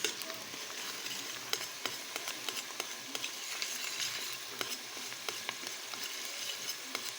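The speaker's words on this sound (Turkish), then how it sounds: "Şimdi salçasını ilave ediyoruz." Tomato paste sizzling in a frying pan as it is stirred, a soft continuous fry with small scraping clicks from the utensil, fairly quiet and without talk.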